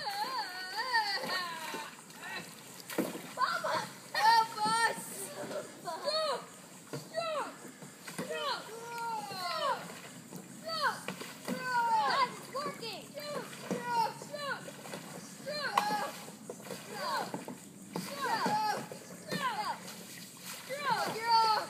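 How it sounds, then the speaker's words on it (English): Children paddling a small boat, with soft water splashes and paddle strokes beneath near-constant high children's voices and shouting. "All right, paddle."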